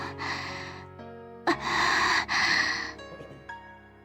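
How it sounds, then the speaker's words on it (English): A female character in a visual novel breathes raggedly, with quick gasping, heavy breaths rising and falling over a soft, steady musical backdrop, close and fairly clear. "Her breaths are ragged."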